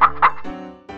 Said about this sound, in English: Hello, clucking hens.